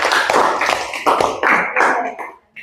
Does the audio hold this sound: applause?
yes